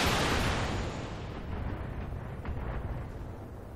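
Mech weapons fire and strike in the Battletech video game: a loud rumbling blast at the start, then a long fading roar with a few softer crackling impacts.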